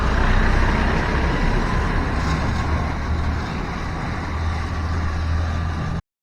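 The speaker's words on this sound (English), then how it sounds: "There's constant like worker trucks." Worker trucks and other traffic move through the city streets of Lucca, Italy, giving a continuous broad rumble and roadway noise with no clear gaps.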